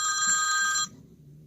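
A phone rings on an outgoing call: one loud, steady electronic ring tone lasts under a second and then cuts off into quiet background.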